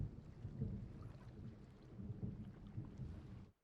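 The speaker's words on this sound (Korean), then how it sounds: "천둥 소리에 밖을 보니 또 다른 폭풍우가 몰려오고 있습니다." Faint, deep thunder from an approaching storm at sea rumbles continuously in the distance, low and rolling, before cutting off abruptly at the end.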